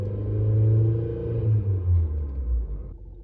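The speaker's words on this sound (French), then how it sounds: "plus la voiture fera du bruit" A car's engine rumbles low and climbs in pitch as it accelerates through the gears, growing louder with no voices over it.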